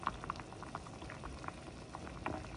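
Papaya and red jujubes simmer in a pot of rock-sugar sweet soup, giving a soft, steady bubbling hiss with scattered little pops and blips, fairly faint and unbroken.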